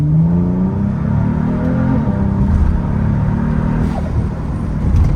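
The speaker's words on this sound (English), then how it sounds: "Even the exhaust sounds pretty good. And it's just a muffler delete." A Kia Stinger with turbos and a muffler-delete exhaust gives a loud, deep, continuous engine rumble that holds steady and swells slightly as the car pulls, close and unbroken.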